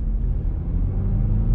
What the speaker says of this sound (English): This car accelerates